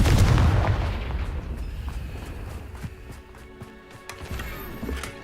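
A Confringo spell blast in a video game, a loud booming explosion at the start that rumbles and fades into scattered crackles and softer impacts, alone without talking.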